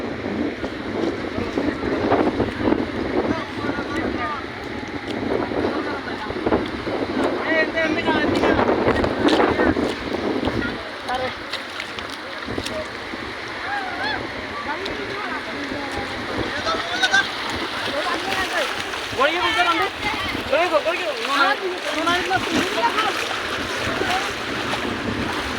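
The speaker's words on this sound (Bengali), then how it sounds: "দেখতেছেন জোয়ার আসতেছে, অনেক জোরে জোয়ারটা আসতেছে।" Incoming tide water rushes strongly along the shore, a broad steady wash with wind buffeting the microphone, while people talk over it throughout.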